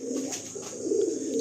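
A breeding pair of pigeons in a cage gives a soft, low, continuous cooing that is close and steady, rising a little toward the end, with no talk over it.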